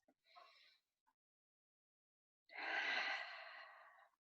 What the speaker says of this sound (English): you take a large deep breath